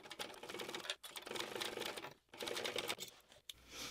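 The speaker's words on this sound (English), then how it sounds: "So I'm going to stitch it, joining stitch, and needle down and back stitch at beginning and the end of the seam" A sewing machine runs a joining seam on a bag, stitching in rapid continuous bursts with brief stops between runs, close up and at moderate volume.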